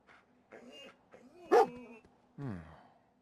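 Dogmeat, the German Shepherd companion in Fallout 4, gives a few short barks and whimpery yips, close and fairly loud, amid quiet game sounds.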